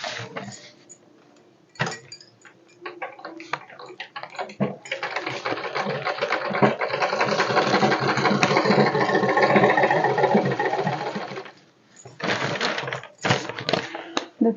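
A sewing machine stitches without thread in short bursts, then runs in a long steady rattling stretch, followed by more brief runs. The rapid needle clatter is close and fairly loud.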